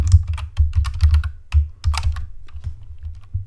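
Rapid bursts of clicking keys on a computer keyboard while someone types code, close and crisp, in quick uneven clusters with short pauses, with no talking.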